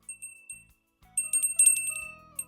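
A bright bell rings in a few short dings, then a quick flurry of rapid repeated rings, sharp and close against near silence.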